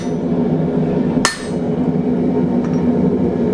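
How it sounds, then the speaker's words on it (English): A single hard hammer blow strikes a blacksmith's guillotine tool to cut hot 1/2 inch steel, a sharp metallic crack over a constant loud background roar, likely a forge. "Set it right there and give it a good strong hit."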